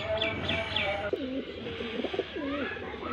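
A pigeon coos in soft, rolling phrases close by, with a few faint chirps and light background noise, and a voice murmurs briefly in the background.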